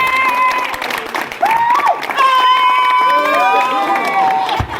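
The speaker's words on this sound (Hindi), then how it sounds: "और हमारी आफरीन परी साहिबा के लिए बहुत सारी तालियां" Applause and cheering from a stage drama audience greet actress Afreen Pari, a loud, steady crowd wash with whistles and shouts layered over it throughout.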